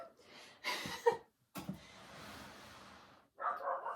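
A dog barks indoors from a short distance in a house, giving a few separate woofs and yips with pauses and a cough-like sound between them.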